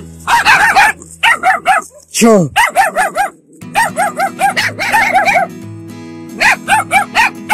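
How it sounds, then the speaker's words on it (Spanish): Several dogs bark, yip and whine close by on a rural mountain trail between Matara and Mollepata, loud repeated bursts with someone speaking in the pauses between them. "Me van a morder estos perros,"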